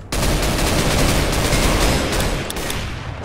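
Sustained, loud, dense gunfire from guns in the Minecraft Mine Strike game, a continuous rattling barrage close up that barely eases before fading slightly toward the end.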